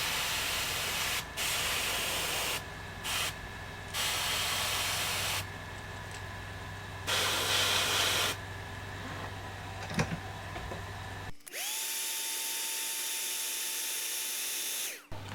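An airbrush sprays black paint onto a fishing lure in repeated hissing bursts of varying length, then a steadier whining hiss from the compressor or gun takes over near the end.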